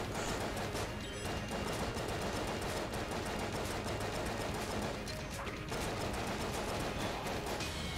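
A boss in the Enter the Gungeon video game fires shots in a dense, loud, continuous barrage of rapid gunfire that fills the whole stretch, with only brief dips in intensity.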